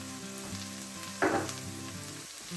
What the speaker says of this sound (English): we're just going to cook these spices out for about a minute